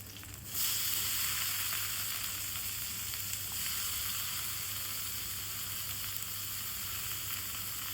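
Onions and green and dried chillies fry in oil for mustard greens bhaja, a bright hissing sizzle that jumps up abruptly as the onions hit the pan and then holds steady and close, with no talking.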